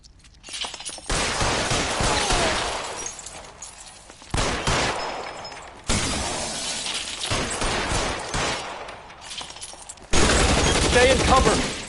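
Tommy gun bursts in the video game L.A. Noire, several long rapid-fire volleys with short pauses between, loud and close, with shattering and faint voices mixed in.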